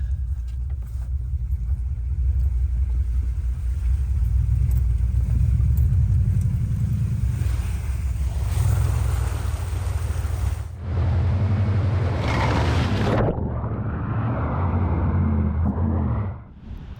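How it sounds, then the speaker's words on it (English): A Dodge truck engine rumbles steadily in the woods, then a loud rushing splash of water surges as it plows through a deep puddle, followed by the engine revving on. "Let's see how the Dodge goes going through it."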